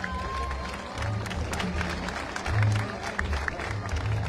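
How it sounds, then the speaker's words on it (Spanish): An outdoor crowd claps for the media before a nocturnal horseback parade in Villa de Álvarez, steady applause amid general crowd noise and a few low thumps. "Fuerte el aplauso para los medios de comunicación"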